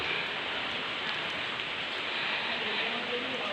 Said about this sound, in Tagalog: Basa tayo ng ulan.